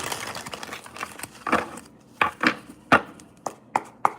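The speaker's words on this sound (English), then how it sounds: "we're going to do one more shuffle" Tarot cards being shuffled by hand, a quiet, close series of crisp riffles and taps that grow sharper and more evenly spaced toward the end.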